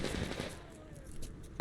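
Rapid gunfire rattles in Metro Exodus, a loud burst of closely spaced shots followed by thinner, scattered cracks as the firing trails off.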